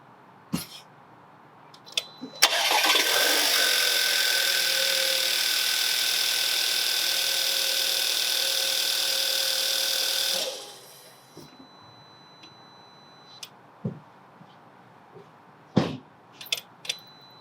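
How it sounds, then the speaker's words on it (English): A Volkswagen Tiguan engine cranks and runs right after an oil change, a loud steady mechanical drone for about eight seconds with a high whine, then cuts off, leaving faint scattered knocks and clicks. "The engine may make some tapping noise."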